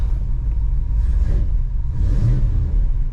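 An SUV engine with Flowmaster 50 Series exhaust rumbles low and muffled, heard from inside the cabin, with a couple of gentle revs swelling and fading.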